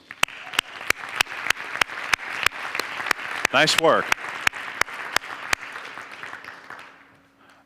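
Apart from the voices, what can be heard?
audience applause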